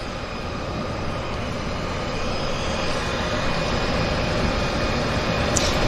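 A floatplane taxies across Vancouver Harbour toward its takeoff area, porpoising and bouncing on the water, its steady engine drone and broadband rumble holding loud and constant throughout with no talk.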